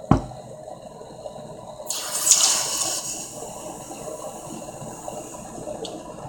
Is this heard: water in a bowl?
yes